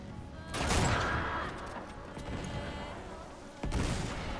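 Sniper rifle shots ring out in Uncharted 3: a loud, sharp blast near the start rolls into a long echoing tail, and a second crack lands near the end over a steady game backdrop.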